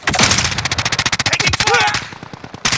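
Rapid automatic gunfire in Call of Duty: Modern Warfare, a loud, close burst of evenly spaced shots rattling for about two seconds, a short gap, then more shots resuming, with a voice briefly heard among them.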